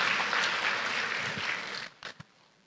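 Church congregation applauding at a Christmas service, a broad steady wash of clapping that fades out, leaving a few scattered claps at the end.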